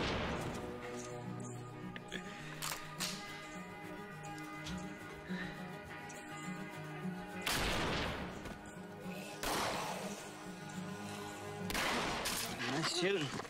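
Gunfire from a zombie-killing scene in The Walking Dead, season 3 premiere "Seed": sharp repeated shots and crashes in a busy mix of music and effects, fairly loud, with talk running through.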